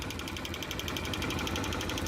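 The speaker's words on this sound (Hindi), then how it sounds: "आपको टिक टिक की आवाज़ आ रही है" A CG 125 motorcycle engine idles up close with a fast, regular ticking from its head, a steady mechanical patter running continuously over the low rumble.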